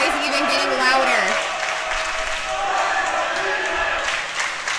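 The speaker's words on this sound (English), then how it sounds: "both teams clapping together and saying the same thing" Swimmers from both teams at a boys' swim meet clap and chant in unison, a steady, loud crowd roar with voices echoing through an indoor pool hall.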